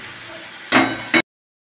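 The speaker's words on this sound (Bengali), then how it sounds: "পেঁয়াজটা খুব সুন্দর করে ভেজে নেব" Chopped onions fry in oil for a homestyle chicken kosha, giving two short bright bursts of sizzling over a low steady hiss before the sound cuts off abruptly.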